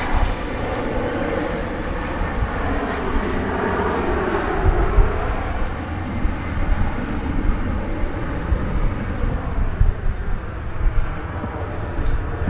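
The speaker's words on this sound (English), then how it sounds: "The easy sounds of Runway DFW." Jet airliners on the runway at Dallas-Fort Worth airport, a loud, continuous engine roar with a slowly shifting whine and rumble, steady throughout and heard without talk.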